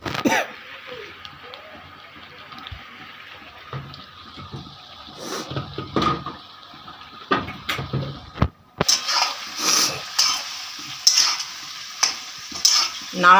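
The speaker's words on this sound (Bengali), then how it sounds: "নাড়াতেই খুব সুন্দর গন্ধ বেরোচ্ছে।" A spoon stirs a spiced curry with garam masala frying in a pan, making repeated close scraping strokes over a soft sizzle, with a brief voice in the background.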